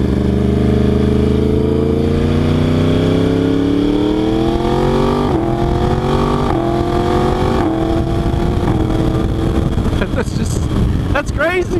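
A 2023 Yamaha R1 sport bike engine revving hard while riding, loud and close, rising through the revs in several long pulls with brief drops at gear shifts and a speaking voice over it.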